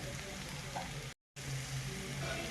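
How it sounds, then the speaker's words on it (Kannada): Tamarind juice is poured into bitter gourd gojju frying in a pan, bringing a steady, close sizzle with a brief gap of silence midway. "ನೋಡಿ, ಈಗ ನಾನು ಹುಣಸೆ ರಸನ ಹಾಕೋತಾ ಇದ್ದೀನಿ"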